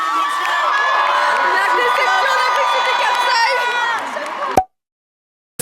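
An audience at a charity gala cheers and whoops loudly to welcome the band, a dense crowd roar with shouts that cuts off abruptly near the end.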